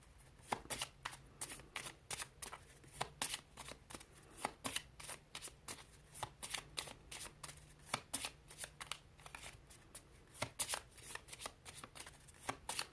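A deck of cards is shuffled over and over, making soft, rapid riffling bursts in an irregular rhythm. The sound is close but quiet.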